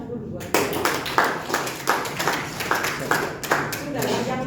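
A classroom of students claps for a classmate in an uneven rhythmic burst of hand claps lasting several seconds, close and fairly loud, with a voice speaking underneath.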